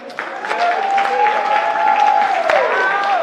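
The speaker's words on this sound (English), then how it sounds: "Can I get some claps real quick?" An audience at a startup competition event claps together in a steady, loud burst of applause, with a whistling tone and crowd murmur carrying through.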